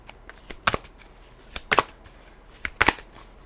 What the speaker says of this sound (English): This card, this deck is like shuffling very weird.